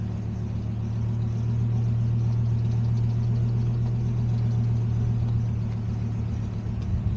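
A car on a test drive rumbles steadily from the inside with a low, even engine drone that holds constant for several seconds, and no one talks.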